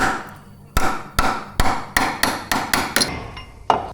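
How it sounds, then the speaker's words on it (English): A hammer strikes a chisel in sharp, ringing metal blows, about nine hits in a fairly regular rhythm, close and loud, loosening a part while replacing belts on a Citroen Xsara Picasso 2.0 HDI. "with a hammer and some kind of chisel, I hit it to make it rotate and loosen."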